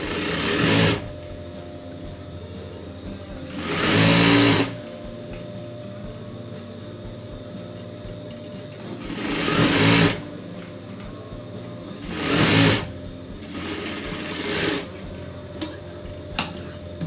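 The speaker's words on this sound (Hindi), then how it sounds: "अब हमें इस साइड से लहंगे की सिलाई शुरू करनी" Sewing machine stitching lining onto a lehenga, with bursts of rapid mechanical whirring separated by quiet pauses, close and fairly loud.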